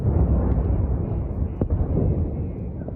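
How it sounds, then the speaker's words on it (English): Dull, heavy booms from missile explosions echo across Kyiv, heard at a distance as a low rumbling roar with a sharper crack partway through. "From 7 this morning, explosions could be heard across the city."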